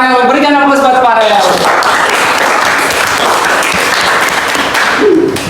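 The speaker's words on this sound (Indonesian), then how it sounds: "Berikan aplaus buat Farel." Classroom applause for a student named Farel: a burst of many hands clapping that swells after a short spoken lead-in and holds steady for several seconds, with a voice briefly heard near the end.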